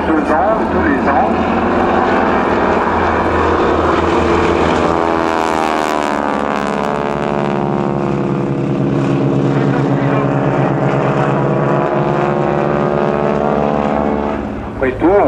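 A propeller airplane performing aerobatics with a wing-walker drones loudly and continuously, its engine pitch rising and falling through the manoeuvres, under occasional talk.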